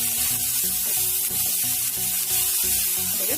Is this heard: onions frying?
yes